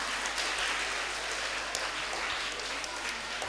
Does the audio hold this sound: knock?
no